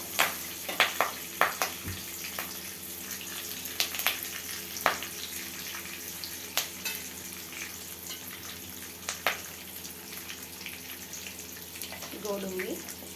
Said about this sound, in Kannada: ಸಾಸಿವೆ ಜೀರಿಗೆ ಎರಡು ಚೆನ್ನಾಗಿ ಪಟ ಅಂದಮೇಲೆ ಕರ್ಬೇವಿನ ಸೊಪ್ಪು ಹಾಕೋತಾ ಇದ್ದೀವಿ.